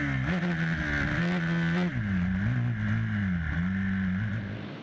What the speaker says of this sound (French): la puissance de son bicylindre Aprilia lui permet de gagner une position en dépassant Bidard dès la première ligne droite